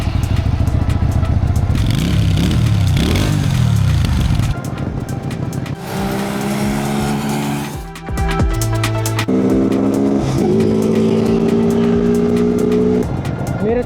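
A Morbidelli C252V motorcycle engine runs at night on the streets of Kathmandu. It is loud and close, idling and revving with pitch that climbs and falls, and no one talks over it.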